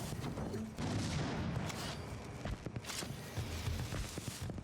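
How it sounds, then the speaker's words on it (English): Explosions and gunfire in a multiplayer shooter video game, a sequence of sharp bursts and booms scattered over a steady background bed, fairly loud and close. "He's throwing bombs."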